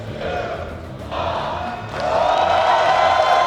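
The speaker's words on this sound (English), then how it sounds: "You can tell the crowd knows what's happening." A large esports crowd at a PUBG tournament elimination match cheers and roars continuously, swelling louder toward the end, while commentators talk over the noise.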